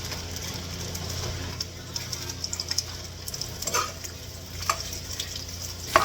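Dried fish frying in hot cooking oil, a steady close sizzle with occasional pops and crackles, some light handling noises on top.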